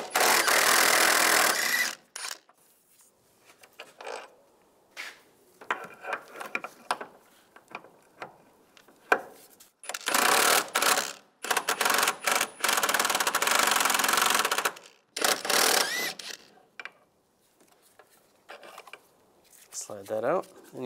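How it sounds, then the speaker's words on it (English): A 16mm socket wrench working the engine mount bolts on a 1999-2005 Volkswagen Jetta, giving repeated bursts of close, loud metallic ratcheting separated by pauses, with a few shorter clicks and knocks between them. "using a 16mm socket, take the two bolts off the back side of the mount"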